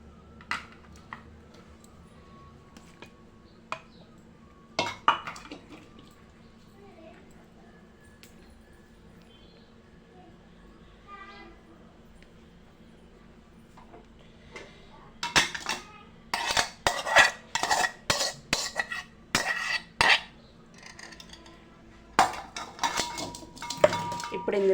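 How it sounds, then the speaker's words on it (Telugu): Ridge gourd pieces tipped into a pan and stirred: a few isolated clinks at first, then a dense run of metallic scraping and clattering of a spoon against the pan, with a voice speaking briefly. "పొట్లకాయని దీంట్లోకి వేసుకోవాలి."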